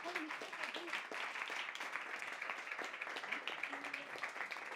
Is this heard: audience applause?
yes